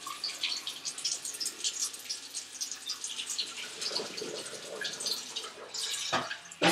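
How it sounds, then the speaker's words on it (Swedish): Cold water runs from a kitchen tap to rinse and cool freshly boiled food, a steady splashing stream with drips and clatter, close and moderately loud throughout. "Spola i kallt vatten så det kallnar."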